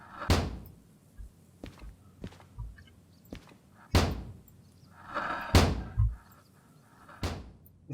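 Repeated heavy slams of a locomotive cab door in the Derail Valley train simulator game, about six loud sharp impacts at irregular intervals with a faint rattle between them.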